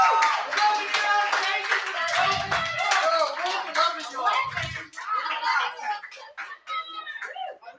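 Audience clapping and cheering after a performance at an open mic night, lively close handclaps mixed with voices and chatter, tapering off over several seconds.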